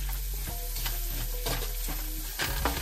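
Onion and garlic frying in a pan for Filipino-style spaghetti, stirred with a utensil: steady sizzle under repeated scraping strokes, close and continuous.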